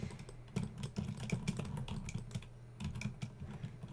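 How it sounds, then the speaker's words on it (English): Rapid clattering keystrokes on a loud computer keyboard, close and steady with a brief pause midway, no voices. "I use the loud keyboard just because I like, how it feels."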